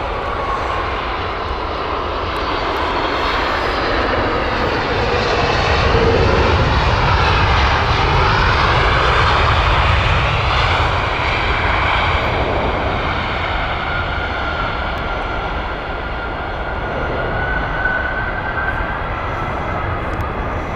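Loud Boeing 747 jet engines roar at Heathrow, swelling to a peak midway and then easing into a sustained, rumbling whine with no voices over it.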